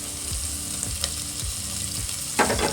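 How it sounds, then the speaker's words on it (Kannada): Chopped coriander and mint leaves sizzle and crackle steadily in hot oil for chicken biryani, with stirring scrapes throughout and a brighter burst of frying near the end; no talking. "ಅದು ಕೂಡ ಇದ್ರ ಜೊತೆಗೆ ಚೆನ್ನಾಗಿ ಫ್ರೈ ಆಗುತ್ತೆ."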